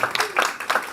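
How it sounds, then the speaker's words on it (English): An audience at a holiday park entertainment show claps in a short, dense burst of applause that rises and falls in waves over about a second, with no clear voices. "Beautiful clapping."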